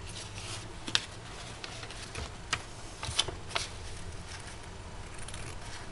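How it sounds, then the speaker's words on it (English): Scissors cutting around pinned gelli-printed fabric, a soft continuous snipping and rustling with occasional sharper clicks of the blades, close and quiet. "hoping here that I have a pair of scissors that cuts good"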